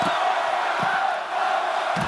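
A wrestling arena crowd in the WWE 2K25 video game roars and cheers steadily during a Brock Lesnar versus Roman Reigns casket match, a dense continuous wall of voices with brief dips.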